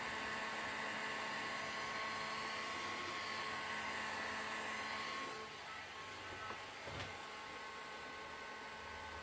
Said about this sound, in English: I'm going to apply a bit of heat to the inlay, just to allow it to form around the curve a little bit more.